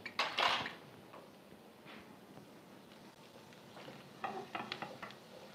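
Mustard seeds, cumin, urad dal and chana dal stirred with a small spoon in a hot pan for masala dosa tempering, with clinking utensil scrapes and a soft sizzle in quick bursts, close by.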